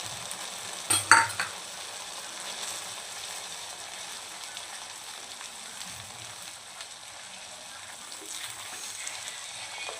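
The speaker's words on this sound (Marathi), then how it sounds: "छानपैकी यायचं तेल निघेपर्यंत आपल्याला हे मसाले परतून घ्यायचे" Spices and tomato paste for chicken korma sauté in oil with a quiet, steady sizzle. A sharp clatter of stirring comes near the start, and fainter utensil scrapes follow.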